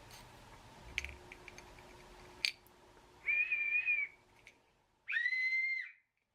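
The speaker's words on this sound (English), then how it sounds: "A nice whistle." A survival whistle blown twice, two loud shrill sustained blasts about a second long each, close up, after a few faint clicks and no talking.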